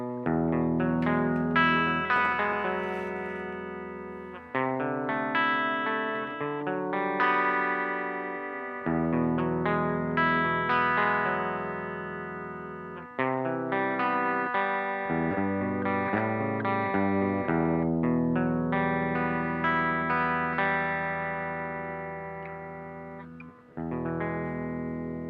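A music loop played through Laney distortion and drive pedals switched to bypass, so the clean loop comes through unaltered; a steady, moderately quiet phrase repeating in sections without any talk.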